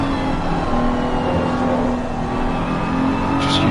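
A BMW race car engine in Assetto Corsa Competizione at the Nürburgring GP circuit drones loudly and steadily at high revs, with a constant onboard whine and no voices.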